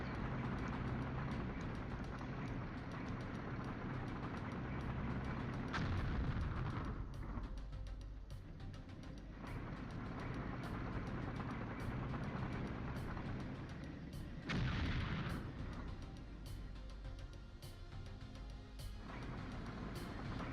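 Artillery fire in the wargame Flashpoint Campaigns: Southern Storm: a steady low rumble of moving armour, broken by two heavy broadband blasts a few seconds apart.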